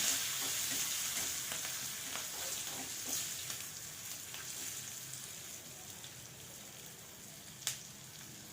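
Red pumpkin with curry leaves stirred in a pan for a Marathi-style pumpkin bharit: a steady, close sizzle with scraping spoon strokes and one sharp clink near the end, no voices.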